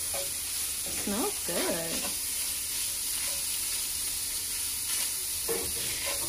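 Vegan cheesesteak filling fries in a pan on a stovetop while being stirred: a bright continuous sizzle with occasional scraping strokes, and a voice speaks briefly over it.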